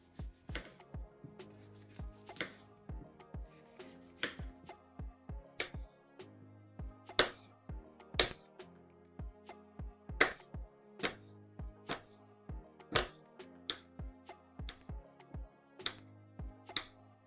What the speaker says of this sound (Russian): Первым делом нам нужно нарезать яблоки на небольшие кубики.